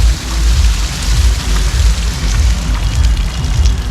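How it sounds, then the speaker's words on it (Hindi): Heavy downpour in Haridwar during a cloudburst, a loud, dense, continuous roar of rain close by with a deep rumbling low end and no talk. "देखिए इस तरीके से पानी बरस रहा है।"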